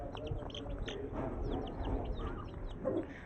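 An Aseel rooster gives short, soft clucks and chirps close by, several brief calls spread over a few seconds with faint background noise.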